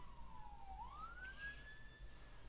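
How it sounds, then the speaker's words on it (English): A passing ambulance siren sounds faintly at a distance, one long wail dipping and then rising in pitch over a low background rumble. "an ambulance just passed"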